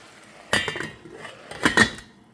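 A metal lid is set onto a cooking pot on a stove turned below medium heat, giving two clattering metallic clinks about a second apart, close and fairly loud, with a faint ringing tail and no talking.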